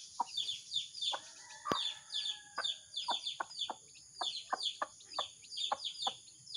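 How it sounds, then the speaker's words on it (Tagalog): A mother hen clucks in short, repeated bursts while her chicks peep high and steady throughout, teaching them to eat; close and moderately loud, with no talk. "Tuturuan pa niya magkumain yung mga sisiw niya."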